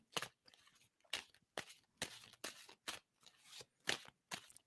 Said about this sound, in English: And tell me to stop shuffling.